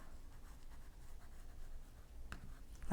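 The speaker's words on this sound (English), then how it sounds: "now I'm drawing broken lines to remind me this is stitching lines" A marking pen scratches short broken stitch lines onto quilt fabric, a faint, close, soft scribbling with small strokes and one sharper tap.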